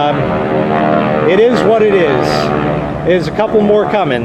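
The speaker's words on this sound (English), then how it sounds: "I'm sorry about the air noise from airplanes and that." Propeller airplanes fly over an outdoor backyard pool for a Memorial Day air show, their droning engines rising and falling loudly beneath a person talking.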